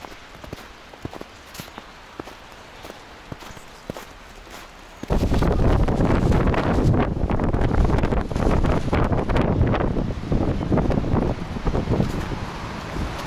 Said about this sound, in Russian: Ветер ужасный.